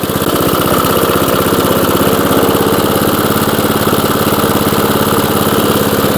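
A 1982 JCPenney lawn mower engine runs steadily at close range, a loud, even buzzing drone with a fast regular pulse and no other sounds.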